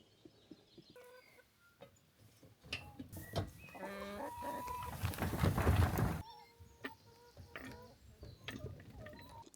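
Hens cluck in bursts around a hen coop, close by and fairly loud, with a brief crow among them and a broader noisy stretch in the middle before the clucking thins out again.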